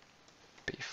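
A computer mouse clicks while someone works in Tableau software, giving a single faint, close click over quiet room noise.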